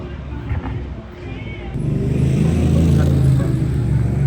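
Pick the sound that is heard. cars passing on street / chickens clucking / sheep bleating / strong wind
cars passing on street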